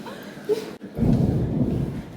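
Thunder rumbles during rain in Kotor, Montenegro: a broad low roar swells after a brief pause and rolls steadily for over a second, fairly close and loud, with no talking.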